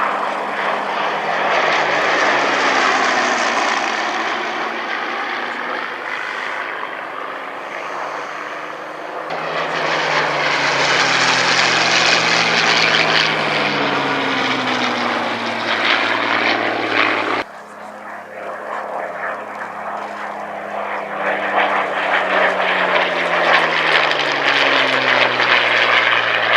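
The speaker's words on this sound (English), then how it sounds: "The Collection Sea Hurricane, the only surviving example in the world" A Sea Hurricane propeller fighter, the only surviving example, flying at a heritage airshow: a loud, continuous piston-engine roar that swells and fades as it passes repeatedly, with a commentator talking over it.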